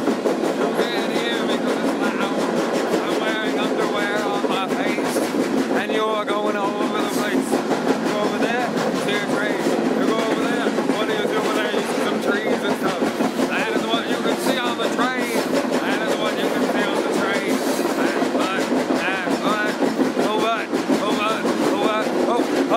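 A freight train rolls along the rails with a constant loud rumble, clattering wheels and squealing metallic screeches scattered throughout, heard from aboard the moving cars.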